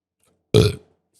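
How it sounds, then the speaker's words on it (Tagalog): One short, loud, close burp from a person, a single abrupt belch lasting about a quarter second surrounded by silence. "That's a burp for yes, pare."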